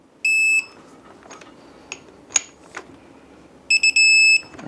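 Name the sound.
tightening sprocket bolts to 7 foot-pounds, torque wrench beeping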